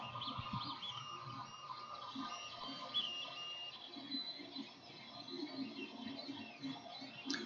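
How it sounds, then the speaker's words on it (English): An Ender 3 Pro 3D printer on its first print gives off a steady, faint whir of stepper motors with chirpy, warbling tones and small clicks, running alone without talk. "That's probably the fastest I've gotten a printer up, running, and printing."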